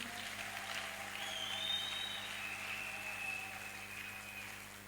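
A church congregation applauding during a French and Swahili worship service, a steady wash of clapping that swells in the middle and eases off, with no voice over it.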